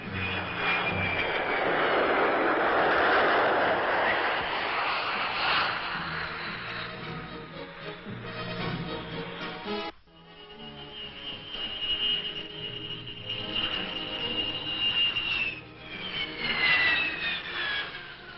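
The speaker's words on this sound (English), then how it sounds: "The first combat elements to arrive in Iran were the F-100s, which landed at Vadati with routine precision" Several F-100 jet fighters land at an air base in Iran amid blowing dust, their loud jet engine roar sustained throughout and briefly dipping before swelling again with rising whine.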